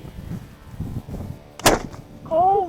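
A homemade potato cannon fires a single sharp, loud blast after a stretch of low background murmur, followed by a rising voiced exclamation.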